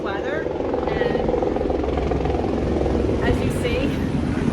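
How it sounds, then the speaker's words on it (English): Helicopters fly in to a helicopter pad in Skagway, Alaska, a loud continuous rotor thrum with steady chopping beats. A person speaks over the noise. "I've been sitting on my balcony all morning watching the helicopters coming in"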